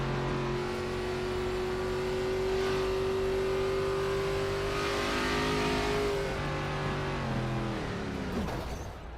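An ARCA Series race car engine at Phoenix drones at high pitch from inside the car, holding steady and then dropping as it slows, loud and continuous.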